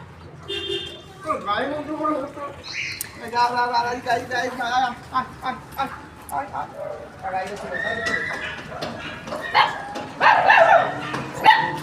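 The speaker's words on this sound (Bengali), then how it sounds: "দেখো তো কোন কুকুরটা চিৎকার করছে" A dog barks and cries out in a run of high yelps and whining howls, mixed with people talking and a busy domestic background.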